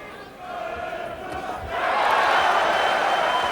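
A German boxing crowd backing its home champion swells into a loud roar of cheering about halfway through, rising from a murmur to a sustained wash of voices.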